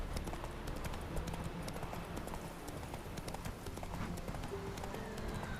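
Roach, Geralt's horse in The Witcher 3, gallops with rapid, continuous clip-clop hoofbeats over game ambience, steady and fairly close throughout with no pauses.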